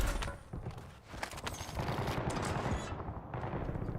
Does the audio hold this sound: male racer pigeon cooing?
no